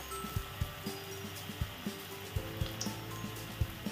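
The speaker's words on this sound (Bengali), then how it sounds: "এবার আমি এক এক করে বড়া ভেজে তেলের মধ্যে বড়াগুলো দিয়ে ভেজে নেব" Gadal leaf fritters, Bengali bora flattened by hand, frying in hot oil over a low gas flame: a steady, soft hiss broken by a run of gentle, regularly spaced thumps and taps.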